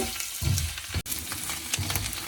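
Goat intestine fry with coriander leaves is stirred in a sizzling pan, a continuous frying hiss broken by a few scraping, thumping stirs and no talk.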